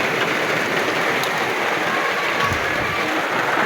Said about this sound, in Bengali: আমাদের কুমিল্লাতেও বৃষ্টি শুরু হয়ে গেছে